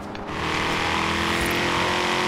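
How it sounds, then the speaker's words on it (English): Shelby car engine in the Forza Horizon 3 racing game, a loud, steady engine roar that swells after a brief quieter start and holds a continuous tone. "God, this Shelby sounds so nice."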